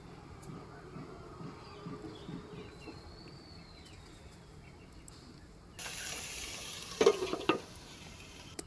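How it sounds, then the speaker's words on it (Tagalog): Sitaw (string beans) adobo being stirred in a pan, a soft, steady scrape and light sizzle at low level, with a few louder clatters toward the end. "Haluin lang natin ng haluin guys. Para maluto ang ating sitaw."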